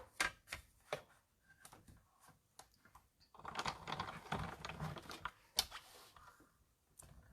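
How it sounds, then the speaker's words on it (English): A paper card runs through a cut and emboss machine on a desk, with a burst of grinding, cranking mechanical noise in the middle, framed by scattered clicks and taps before and after. "I'm going to put this through the cut and emboss machine"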